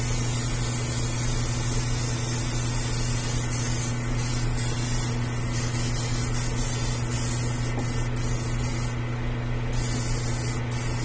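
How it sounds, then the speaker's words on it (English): A spray gun hisses steadily as it lays primer onto a quarter-scale Beast prototype model, a continuous airy spray over a low mechanical hum with a few brief louder bursts. "I'm going to spray this from the top"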